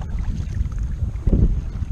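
Wind rushes past while paddling a Sundolphin kayak on Prettyboy Reservoir, a low rumbling buffet against the microphone with one stronger gust midway, steady and close.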